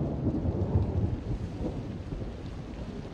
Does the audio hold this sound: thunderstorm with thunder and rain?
yes